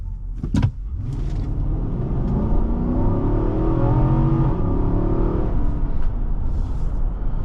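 A 2023 Nissan Armada Platinum accelerates hard on the road, its engine rumble building into a steady, loud drone that rises in pitch over several seconds, with a brief clunk near the start.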